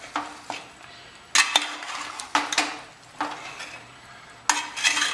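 Mutton gets mixed in a metal cooking pot, with repeated loud scraping and clanking strokes of a spoon against the pot and a faint sizzle between them, close and without talk.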